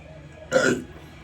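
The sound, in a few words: belch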